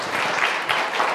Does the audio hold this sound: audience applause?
yes